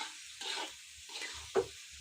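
Potatoes and chicken liver being stirred in a pan, soft scraping and shuffling strokes in short bursts with a faint sizzle behind them and one sharper knock of a utensil near the end.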